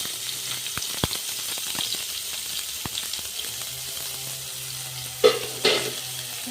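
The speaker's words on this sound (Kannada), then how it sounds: "ನೋಡ್ರಿ ಜೀರಿಗೆ ಸಾಸಿವೆ ಹಾಕ್ತೀನಿ ಚಟ್ಪಟ ಆಗಲಿ" Cumin and mustard seeds crackle in hot oil for a North Karnataka gram-flour stir-fry, a steady sizzle dotted with small sharp pops and a couple of louder spattering bursts near the end.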